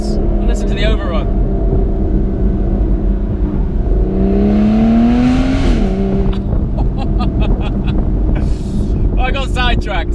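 Aston Martin Vanquish S Volante convertible grand tourer on the move, with a loud engine burbling and shifting pitch on overrun under strong wind buffeting, and someone talking over it.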